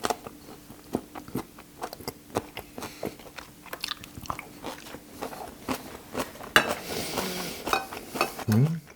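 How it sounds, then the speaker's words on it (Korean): Fried skate with chewy cartilage being eaten, with repeated close bites and crunchy chewing amid light clinks of cutlery and dishes, a busier crunch near the end. "물렁뼈가 많아가지고 꼭꼭 씹어 먹어야 돼."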